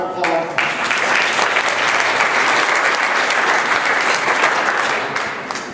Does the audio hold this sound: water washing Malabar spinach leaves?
no